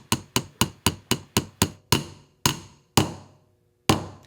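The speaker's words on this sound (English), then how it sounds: "hammer the other end of the shaft through the joint until it fully seats" A hammer drives an axle shaft through a CV joint during a rear subframe restoration: about eight quick, sharp metallic strikes in steady rhythm, then three slower, heavier blows spaced apart, each ringing briefly, close and loud.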